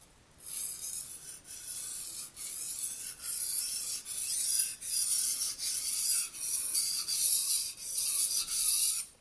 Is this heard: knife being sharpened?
yes